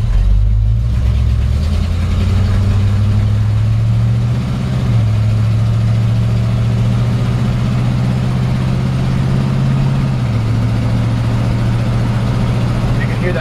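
A 1953 Ford F100 pickup with a Chevy 350 V8 and a 350 Turbo automatic transmission drives along, its steady, loud low engine drone stepping in pitch as the gears shift, with no talk over it.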